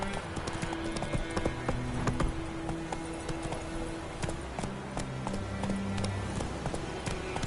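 Roach the horse galloping in The Witcher video game: rapid, continuous clip-clop hoofbeats close up, with a brief voice and game sounds mixed in.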